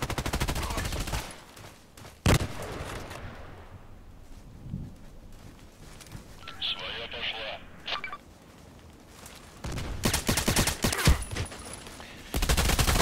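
Gunfire in the online shooter Contract Wars, with sharp single shots and bursts near the start and a dense volley toward the end, plus a quieter stretch of faint game sounds and radio-like beeps in the middle.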